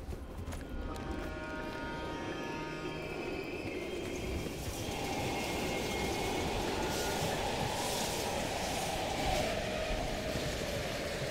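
A train rumbles past steadily in the Call of Duty Black Ops Cold War video game, set in abandoned East German stations, with a continuous loud clatter and faint metallic squeal that swell slightly as it passes.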